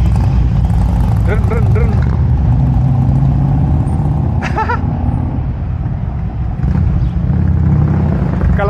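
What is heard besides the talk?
Harley-Davidson motorcycle engine running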